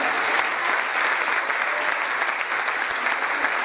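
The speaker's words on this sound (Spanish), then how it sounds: "pueden darle un fuerte aplauso en reconocimiento de esa esperanza" A church congregation claps steadily in dense, continuous applause that fills the room, close and loud, with no voices breaking through.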